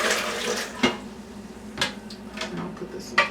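Water is poured from a measuring cup into a blender for homemade cashew and almond milk, a close splashing trickle broken by a few sharp clinks and knocks of kitchenware.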